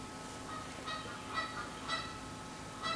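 Wild geese honking as a theatre sound effect during a stage production of Chekhov's Three Sisters, several faint honks spaced about half a second apart over a steady low hum, with no talking.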